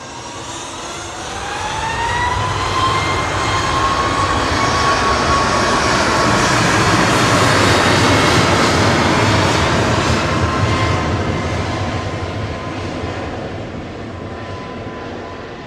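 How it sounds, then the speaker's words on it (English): Royal Air Maroc Boeing 737 MAX 8 jet airliner at Manchester Airport, a loud, close engine roar that builds within two seconds, holds with a high whine, then slowly fades as it passes, with no voices. "Royal Air Maroc heading back to Casablanca with flight 819. It's a MAX 8 again, RHL."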